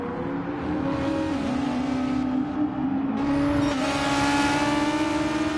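A Supra GT race car engine in a Le Mans racing game revs hard and steadily, with clear upshifts where the pitch drops and climbs again, loud and close with no talk.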